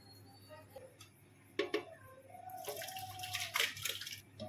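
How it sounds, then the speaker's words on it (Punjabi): A few clinks, then cold water splashes and trickles into a container of aam panna, a raw mango drink, for a couple of seconds, close and fairly quiet. "ਠੰਡਾ ਪਾਣੀ ਪਾਇਆ ਮੈਂ ਬਿਲਕੁਲ"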